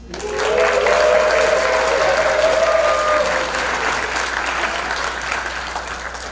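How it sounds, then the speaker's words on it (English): Steady audience applause fills a hall at a Korean-American business convention, loud and sustained throughout with a faint tonal hum beneath, easing slightly toward the end. "I want to give them a round of applause."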